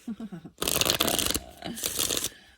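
A deck of oracle cards gets a brisk riffle shuffle, a loud close fluttering burst that pauses briefly and then resumes, with a short bit of speech just before.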